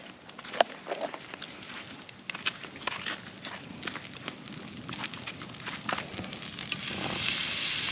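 Butter sizzles and crackles in a hot pan, a soft, uneven popping that grows steadier and a little louder toward the end, with no talk over it.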